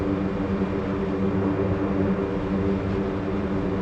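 Turboprop engines of a C-130J transport in the DCS flight simulator drone and hum steadily during taxi, a loud, continuous propeller roar with layered low tones and no voices.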